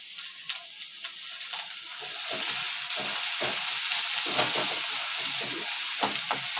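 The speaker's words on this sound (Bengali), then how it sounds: "পেঁয়াজটা কিছুক্ষণ আমি ভাজতে থাকবো মিডিয়াম" Sliced onion frying in hot oil in a pan on a medium flame gives a steady, bright sizzle with occasional crackles and pops, close up and continuous, with no voices.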